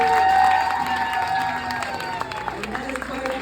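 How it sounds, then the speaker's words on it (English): Audience applause and cheering fill a hall after a personal talk, a dense steady wash of clapping with scattered shouts, loud at first and slowly thinning out. "Can you give Greg another round of applause, everyone?"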